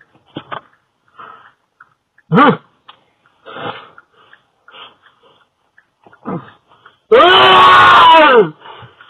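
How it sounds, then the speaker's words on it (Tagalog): An elderly person gives short cries and moans, then lets out one long, loud, wavering scream near the end, with quiet gaps between the sounds. "Grabe, sumigaw yung matanda."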